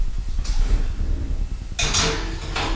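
A cupcake pan goes into an oven, giving soft metallic clatters and scrapes followed by a bright sliding rattle as the rack or pan moves, close by, with no talking.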